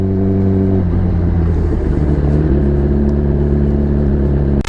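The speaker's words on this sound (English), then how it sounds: "The sound of super duper bikes." Motorcycles rev on a road during a ride, with an engine holding a steady hum, then dropping and picking up in pitch as it changes speed, loud and near, with no voices.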